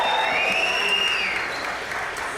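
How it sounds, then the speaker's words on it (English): A rally crowd in Chicago claps and cheers in a steady, dense wash, with a high whistle or shout rising over the applause midway. "I want to hear your applause. I want to hear your screams."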